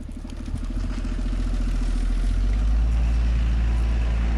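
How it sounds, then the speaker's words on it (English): A lorry's engine rumbles low and steady, growing louder and closer as it passes, with no talking. "Lorry going by."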